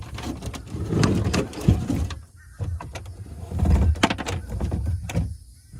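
A boat steering wheel is wound slowly to feed a new steering cable, giving near, uneven mechanical whirring and rattling in repeated bursts, with clicks and brief pauses between turns.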